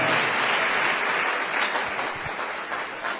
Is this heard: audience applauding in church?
yes